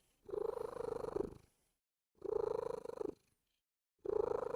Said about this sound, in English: He'll do like these high-pitched trills when he's purring.